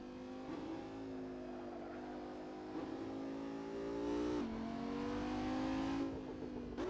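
A high-revving Audi V10 race car engine in a racing video game drones loudly and continuously, its pitch climbing and then dropping sharply twice as gears shift.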